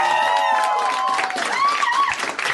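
Live comedy podcast audience claps and murmurs, a brief burst of scattered applause and crowd noise with voices and laughter woven through, fading toward the end.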